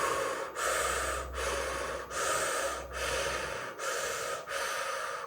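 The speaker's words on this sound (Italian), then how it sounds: "Ora ti chiedo di aumentare il tuo respiro con la respirazione circolare." Deep circular breathing, drawn in rhythmic cycles: long loud inhales and exhales follow each other with brief pauses, close to the microphone and unaccompanied by speech.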